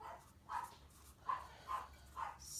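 Dogs in a house give five faint barks at a steady, loping rhythm, sounding somewhat distant over a low background hum. No voice is heard.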